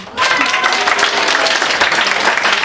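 High school students at a Sunday worship service break into loud applause that starts abruptly and holds as dense, continuous clapping, with faint voices underneath.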